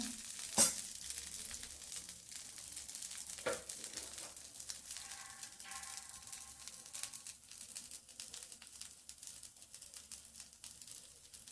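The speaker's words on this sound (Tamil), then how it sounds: "நல்லா வேகட்டும் தோசை" Dosa frying on a hot pan gives a steady, close sizzle that runs the whole time, with one sharp tap near the start and a few faint clinks. Nobody speaks.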